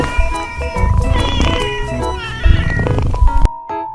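A domestic cat meows repeatedly in a series of clear, fairly close calls, ending on a brief quieter mew after a short pause.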